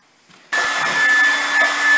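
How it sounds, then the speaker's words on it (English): A heat gun drying a drywall skim-coat patch switches on abruptly with a steady, loud blowing roar and a faint high whine, running continuously. "What I'm doing is I'm drying this patch, this skim coat."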